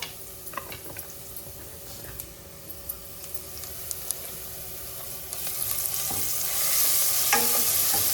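Ginger garlic paste frying in a pan for Tamil Nadu style mango sambar, with faint scattered ticks and scrapes from stirring and a hiss that swells louder toward the end, with no voices.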